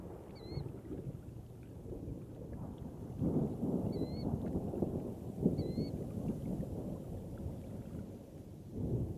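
Low rumbling thunder rolls through a game world in theHunter: Call of the Wild, a steady deep rumble swelling in waves with a few faint bird chirps above.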